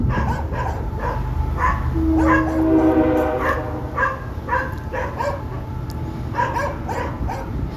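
Several dogs bark and yip repeatedly at a distance, in irregular bursts over a low rumbling background like a passing train.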